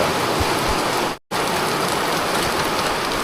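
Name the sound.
heavy rain falling outdoors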